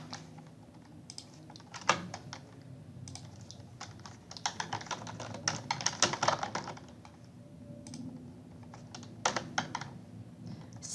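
Typing on a computer keyboard while entering invoice details, heard as irregular bursts of quiet key clicks with short pauses over about eleven seconds, close by and without talk.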